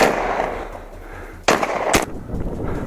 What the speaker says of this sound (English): gunshots rang out in rapid succession.